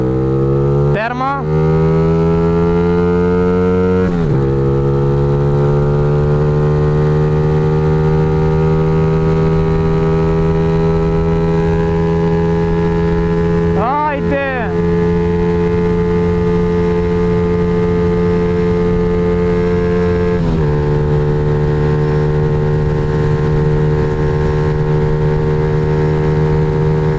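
Small motorcycle fitted with a Daytona 54mm big-bore kit, its engine holding a loud, steady droning note close to the microphone, with sharp pitch jumps as the throttle is blipped several times.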